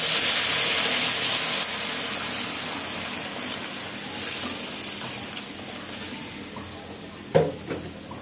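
Hot water goes onto spices and vegetables already sizzling in a pan, giving a broad steamy hiss that slowly fades, then a couple of short clanks near the end.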